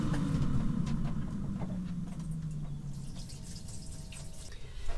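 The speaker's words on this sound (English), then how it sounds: "I'm going to wash my hands first" Water running from a kitchen tap while hands are washed, a steady splashing stream with a falling tone early on and scattered drips and clatter, close and moderately loud without talk.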